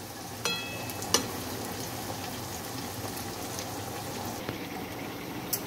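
Onions frying in hot oil to make barista for mutton biryani, a steady, moderate sizzle throughout with a few sharp crackles and pops near the start.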